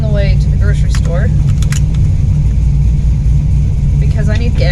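A race car with a swapped 6-litre LS V8 engine driving on the road, a loud, steady low rumble and drone running throughout, with faint clinks and jangles above it.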